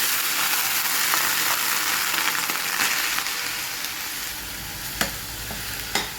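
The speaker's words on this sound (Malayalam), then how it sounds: "അതിലേക്ക് നമ്മൾ ചെറുതായി അരിഞ്ഞു വെച്ച കയ്പ്പക്ക ഇടുന്നുണ്ട്." Finely chopped bitter gourd sizzles loudly in hot oil with garlic, a dense continuous hiss close to the pan, with two sharp utensil clinks toward the end and no speech.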